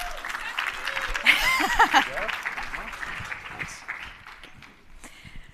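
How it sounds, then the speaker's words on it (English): An audience at a sponsor lunch presentation claps to welcome two presenters to the stage, a short burst of applause with cheering and footsteps, and voices talking through and after it. "a big round of applause and welcome them to the stage"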